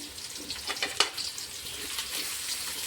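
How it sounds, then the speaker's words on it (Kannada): Onions fry in a pan for a bean pulao, a soft continuous sizzle with a few light scrapes and taps from stirring, faint and steady throughout. "ಈರುಳ್ಳಿ ಒಂದು ಸ್ವಲ್ಪ ಫ್ರೈ ಮಾಡ್ಕೊಳ್ಳೋಣ"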